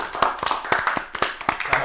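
Bare hands clap for Bayer Leverkusen after their trophy win: about eight close, uneven claps from one or two people across a couple of seconds, with no voices.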